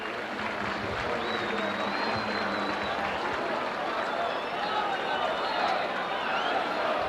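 A rugby league playoff crowd at Leeds versus Castleford cheers in a steady, dense roar that holds for several seconds, with a commentator speaking over it.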